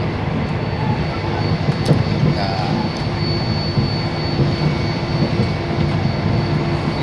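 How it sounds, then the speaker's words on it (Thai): Continuous loud rumble and rattle of a moving train heard from inside a carriage, steady throughout with faint squeaks and clicks. "รถไฟครับ"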